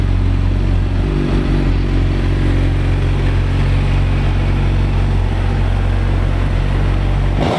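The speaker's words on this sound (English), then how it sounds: "As you can hear, it starts up right away. Runs flawlessly." A fuel-injected 2012 Suzuki GSX-R1000 sport bike engine fires up and settles into a steady, loud, continuous idle close by, with no talking over it.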